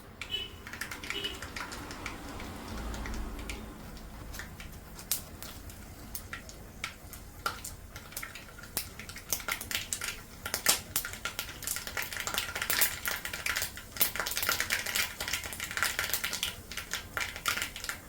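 Mustard seeds splutter and pop in hot oil in a pan while cooking a fish fry, a dense run of sharp crackles and ticks that builds and stays close and moderately loud with no talk.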